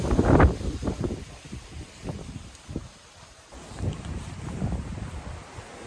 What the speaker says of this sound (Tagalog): grabe lakas ng hangin no oh